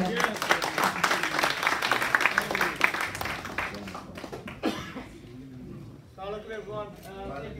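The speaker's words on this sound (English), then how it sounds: "Please can you welcome them with a loud round of applause." Indoor audience applause at an annual sports awards ceremony, loud clapping that fades after a few seconds, with coughs and talk mixing in as it dies away.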